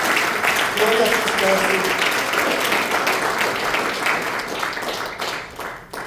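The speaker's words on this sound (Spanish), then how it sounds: "¿Puede darle un aplauso al Rey?" Church congregation breaking into sustained applause during a service, dense steady clapping close and loud, slowly tapering near the end, with a voice speaking briefly over it.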